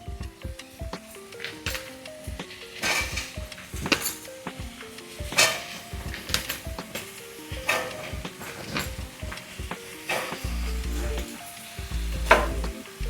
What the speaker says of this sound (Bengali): এটা ভালো করে নাড়া হচ্ছে